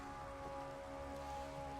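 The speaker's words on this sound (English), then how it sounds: "because it's pouring down rain" Steady rain pouring down in modded Minecraft, a constant soft hiss and patter that fills the whole stretch at an even, moderate level with no voices.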